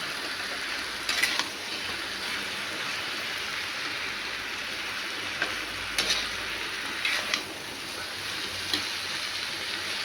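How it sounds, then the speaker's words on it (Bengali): Soybean chunks frying in a pan make a steady, rain-like sizzle throughout, with a few sharp spatula scrapes and taps breaking through at intervals, close by and without talk. "সয়াবিন সব মিক্স করে নাড়তে হবে ভালো করে নেড়ে"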